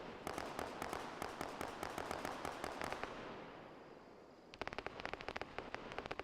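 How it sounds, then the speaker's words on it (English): Heavy gunfire rattles through buildings in Arma 3, rapid repeated shots in a steady rhythm, a brief lull, then another fast burst, distant-sounding and moderately loud. "Sounds like heavy fire in the buildings."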